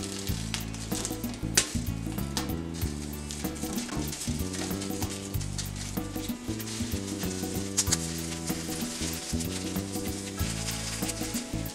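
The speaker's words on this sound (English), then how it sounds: "You can hear that it starts sizzling." Steady sizzling of jalapeños frying on a hot comal, a continuous crackle under low, sustained musical tones, with occasional light clinks.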